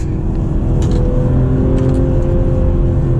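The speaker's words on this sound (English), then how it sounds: "in the 2020 BMW M340i XDrive with all-season tires" 2020 BMW M340i xDrive on all-season tires on a winter drive, a loud, steady engine drone and road roar heard from inside the cabin, with no talk.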